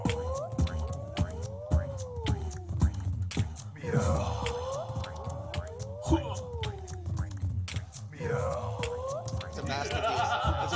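People imitate cat meows, the voices layered and looped on a loop station with reverb, sliding meow-like wails repeating in overlapping cycles over a low rumbling bed.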